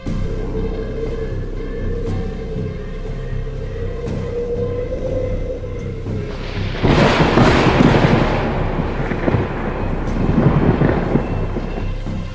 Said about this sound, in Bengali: বাইরে চারধারে ঝোড়ো হাওয়া বইছে এবং তার সাথে সাথে কান ফাটানো বাজ পড়ছে